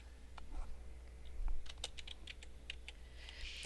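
Quiet, close typing on a computer keyboard while an address is entered into a customer record: scattered light key clicks in short bursts, with a faster patter near the end.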